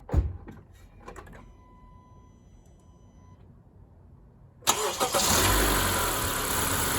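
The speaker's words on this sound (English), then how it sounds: "I just started the car" A car engine cranks and catches near the end, then runs loud and steady at idle after a quiet stretch with a few faint clicks and a thin electronic tone. The car is being checked for a bad alternator or a bad battery.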